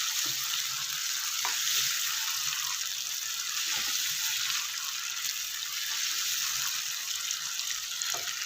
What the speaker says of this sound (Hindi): इसको कुछ सेकंड के लिए भून लेंगे।